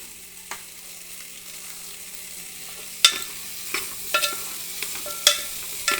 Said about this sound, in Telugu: వేసుకొని ఈ కారంలో వీటిని